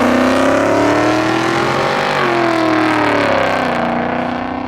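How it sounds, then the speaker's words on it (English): A supercharged LSA V8 in a restomod 1967 Pontiac GTO with a 3-inch MagnaFlow exhaust, cross pipe and headers roars loudly and continuously, revving up and easing back with a deep, rich drone. "The car sounds really good."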